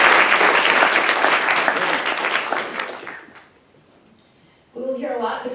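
An audience at a Kendall Square event gives a loud round of applause. The clapping is dense and sustained, fades out after about three seconds, and a voice then begins speaking.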